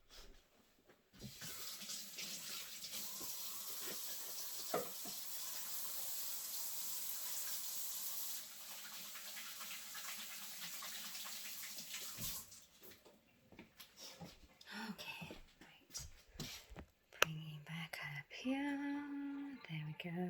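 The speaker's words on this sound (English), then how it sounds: "just wash my hands" Water runs steadily from a tap into a sink while hands are washed beneath it, a continuous close hiss lasting over ten seconds before stopping, followed by quieter kitchen handling noises and faint speech.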